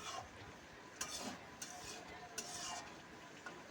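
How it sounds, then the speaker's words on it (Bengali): A spatula stirring a fish roe and vegetable mixture in a pan, giving faint, repeated scraping taps at an uneven rhythm over a quiet sizzle. "খুব ভালো করে খুন্তি দিয়ে নাড়াচাড়া করে কিন্তু মিশিয়ে নিচ্ছি"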